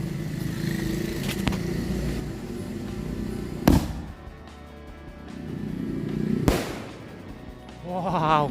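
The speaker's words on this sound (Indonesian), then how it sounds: "Selanjutnya kita nyalakan mercon Rawana." Rawana firecrackers set off at night during Eid eve festivities: a few loud sharp bangs stand out above a continuous background rumble of distant fireworks and passing traffic.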